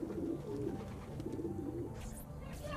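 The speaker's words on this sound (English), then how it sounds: "Hey there, pigeon." Pigeon cooing in the video game Assassin's Creed 2, a soft, steady series of low coos running through the whole stretch at moderate volume, with faint game ambience and a brief rustle near the end.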